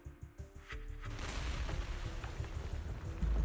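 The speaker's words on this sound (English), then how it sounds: "Dinah finishes her words, several explosions erupt" Several deep explosions erupt in a Zenless Zone Zero cutscene, a few separate booms giving way to a sustained rumbling roar with ground tremors, loud and close, with no talk.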